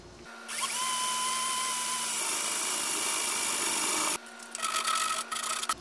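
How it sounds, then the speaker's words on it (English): A 1 3/8 inch drill bit cuts a large hole for a homemade rocket launcher, a loud sustained grinding whine for about four seconds that stops abruptly, followed by a few shorter bursts of drilling. "here we're going to drill the large hole with the 1 3/8 inch drill bit"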